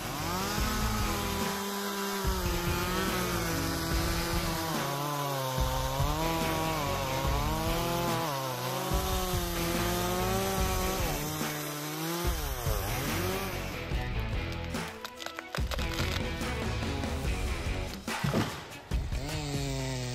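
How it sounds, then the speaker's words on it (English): Stihl MS180 chainsaw felling a large tree, the engine droning loud and close with pitch rising and falling as it bites into the wood, then sputtering and cutting out near the end. "Combining the sharpness of the Style MS180 chainsaw and the ingenuity of the craftsman, large trees can be easily felled in just a few minutes"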